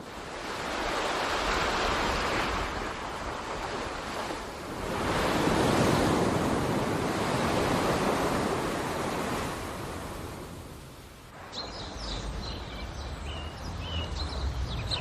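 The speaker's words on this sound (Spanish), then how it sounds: "El mar, que fascina con su inmensidad de agua a los habitantes del desierto." Sea surf rolls in broad, hissing swells that build, crest and ease off. The wash is close and steady with wind, then drops to a lull before a lighter, choppier splash resumes. No voices are heard.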